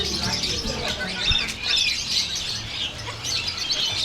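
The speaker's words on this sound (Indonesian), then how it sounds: "Ada burung jelak kebo di sini." Many small songbirds chirp and tweet together at a busy Indonesian bird market, a dense continuous chorus of high calls with faint background noise throughout.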